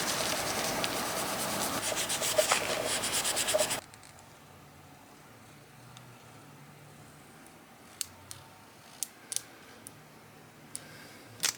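A yellow-painted Mercedes-AMG W205 C450 brake caliper is rubbed down to a matte finish with steady close scratchy strokes, then a quiet pause broken by a few sharp isolated ticks.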